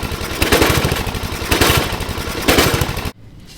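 A riding mower engine runs loudly and roughly with a heavy, rhythmic knocking and banging while the whole engine shifts on its mounts. It pulses in regular surges for about three seconds, then cuts off abruptly to near silence.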